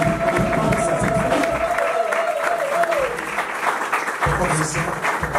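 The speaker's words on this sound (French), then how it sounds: "Applaudissez pour le pasteur Berthe." Audience applause and cheering for a pastor at a church gathering, dense continuous clapping from a crowd close by, with a sustained tone and some voices mixed in throughout.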